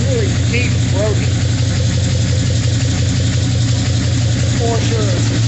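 A 1972 Chevy truck engine idles with a deep, throaty low rumble that stays steady and close throughout, with a few faint higher squeaks over it.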